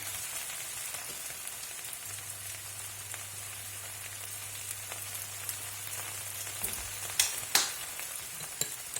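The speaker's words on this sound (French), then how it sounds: "On remue, on surveille les épinards en même temps." Spinach cooks in a pan, giving a soft continuous sizzle like light rain with a low steady hum beneath, then a few louder clicks and scrapes of stirring near the end.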